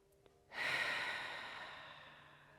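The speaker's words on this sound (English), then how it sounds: "take a deep breath here" A deep breath taken during a calming yoga session: a single long, airy breath that swells in suddenly, then slowly tapers away, close and soft in a quiet room.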